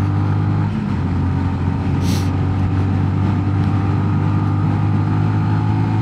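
A 2022 Sinnis GPX 125 motorcycle being ridden, its small single engine droning loudly and steadily from close by, a continuous buzzing hum with wind noise and no one speaking.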